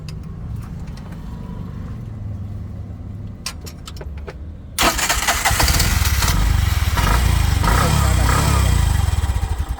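A Bajaj auto-rickshaw engine with an earthing fault fires up after quiet rattles and talk, settling into a loud, steady close-up idle that continues to the end while people speak over it.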